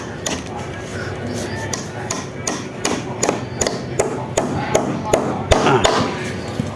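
Nails are hammered through wood and bamboo while a ladder is built for a pigeon house, giving a run of sharp, evenly spaced knocks close by, growing louder toward the end, with brief talk.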